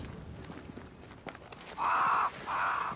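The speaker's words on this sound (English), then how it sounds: "Crows. They flock to that great tree up there." Crows caw twice in a video game set in New Eden, two loud, close harsh calls in quick succession after a stretch of faint footsteps and quiet ambience.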